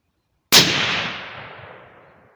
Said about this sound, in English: Alright, so now three rounds suppressed